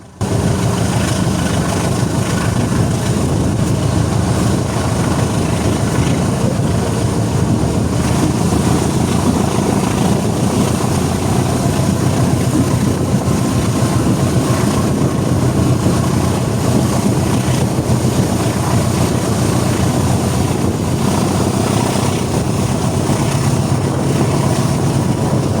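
The Airlangga passenger train rolls through the night, its locomotive roar and wheel rumble forming a loud, continuous, unbroken drone from start to finish with no voices.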